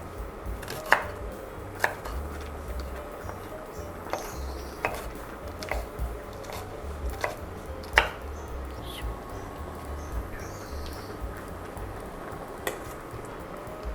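A knife chops the white rind of a watermelon on a cutting board for a Thai curry, giving sharp, close, regular knocks about once a second, with no talk.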